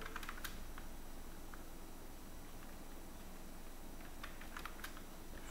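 Steady typing on a computer keyboard while text is entered into a document header and footer, a run of soft, close key clicks with brief pauses and no talking.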